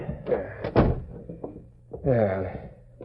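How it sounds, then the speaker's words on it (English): In a 1945 Lone Ranger radio drama, a door shuts with a single dull thump amid people talking. "Now, shut the door."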